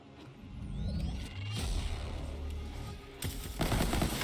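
Gunfire in the Borderlands 3 video game: loud, rapid automatic bursts mixed with whooshes and impacts, growing heavier toward the end, with no voices.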